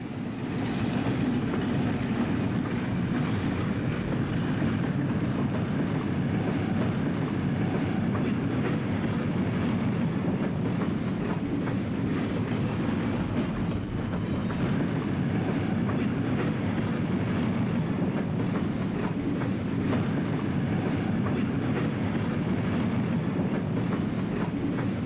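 An Austin & Northwestern Railroad train rolls past rock cars near gravel pits west of Vernon, a loud, steady rumble with rhythmic wheel clatter that carries unbroken throughout.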